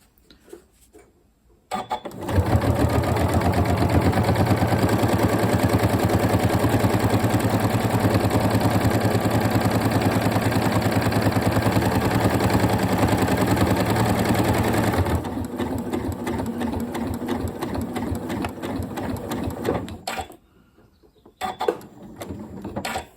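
A Janome Horizon Memory Craft 9480 sewing machine stitching a wiggly line across fabric, a loud steady mechanical whir that runs for about thirteen seconds, then slows and softens before stopping, with faint motor hum around it.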